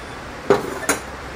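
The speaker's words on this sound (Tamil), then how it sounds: "நம்ம மூடி போட்டு" A lid is set onto a cooking pot of simmering karamani kulambu, two quick metallic clinks about a third of a second apart, close and fairly loud over a quiet kitchen background.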